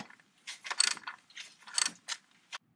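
A hand ratchet clicks in quick bursts while removing a bracket on a BMW N62 V8 engine, several close, crisp ratcheting runs separated by short pauses.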